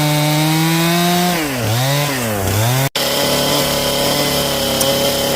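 A chainsaw cuts into a log at a handcrafted log cabin build, with a loud close engine drone that dips in pitch twice as the chain bites, then a brief cutout before it runs on steadily.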